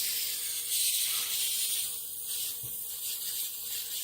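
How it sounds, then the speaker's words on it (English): Aerosol paint stripper sprayed lightly from a can onto a Hot Wheels die-cast car, giving a faint, steady hiss with slight surges and no talking. "I try to spray these, even though I rarely use this stuff, kind of lightly so that foam stays on it."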